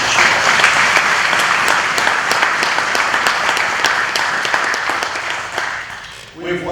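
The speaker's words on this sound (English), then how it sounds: "All of our educators and administrative personnel deserve a huge round of applause for that progress" An audience at an inauguration ceremony breaks into sustained, dense applause that stays loud and steady for several seconds, then fades out near the end.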